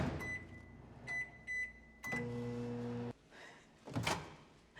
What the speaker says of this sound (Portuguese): agora eu vou levar ela para o micro-ondas